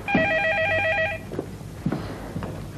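An old-style telephone bell rings in a domestic setting, one clear trilling burst lasting about a second, followed by soft footsteps and small household movements nearby.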